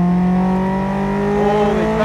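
Mazda Miata race car engine droning steadily from inside the cabin, a loud, continuous note that shifts pitch slightly as the car drives on.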